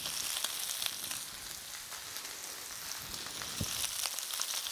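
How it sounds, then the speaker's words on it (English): Lettuce fries in a hot pan with a steady, close crackling sizzle, dense and even throughout, with a few brief stirring clicks and no speech. "It seems a bit odd, doesn't it? Like kind of frying a bit of lettuce."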